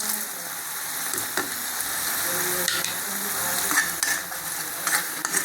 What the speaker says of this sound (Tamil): பச்சை வாசம் போக நம்ம இதை வதக்கணும்